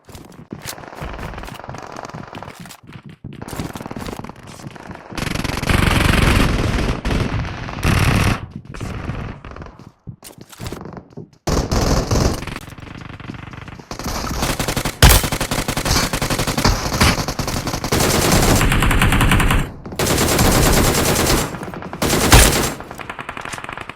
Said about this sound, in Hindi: मुझे राइट से और एक साउंड आते है कि बंदों की फाइट हो रही है